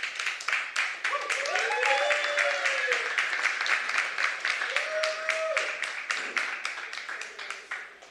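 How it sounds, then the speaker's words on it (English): Audience applause for panelists at a Whitney Houston celebration event, a sustained wash of many hands clapping across the full length, fairly loud, with faint talk and whoops mixed in beneath. "Let's give these incredible panelists a huge round of applause."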